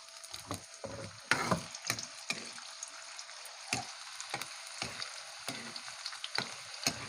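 Carrots frying in hot oil for menudo, a soft continuous sizzle broken by sharp scraping knocks of a utensil stirring against the pan, irregular and close, with no voices.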